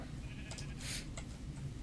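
A sheep in a video game lets out a short, fairly faint bleat over a steady background drone.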